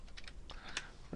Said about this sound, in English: I'll just type something like this.